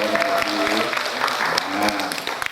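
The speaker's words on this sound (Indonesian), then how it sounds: "Wah, luar biasa. Tepuk tangan dong." Applause breaks out in a training session hall as a group of teachers claps for a classmate's presentation, a dense burst of hands lasting a couple of seconds, with voices mixed in.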